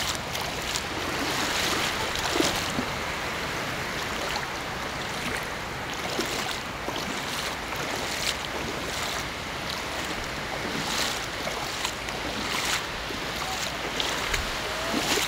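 Steady wash of surf rolling onto Sandigan Beach in Bobon, Mati, Davao Oriental, with gusty wind buffeting the microphone throughout and occasional louder breaking waves.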